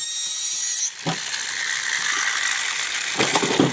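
A refurbished DingBot toy's motor switches on and drives its gears, giving a steady close mechanical whir with a ratcheting gear rattle, a brief click as it starts, then continuous grinding without talk.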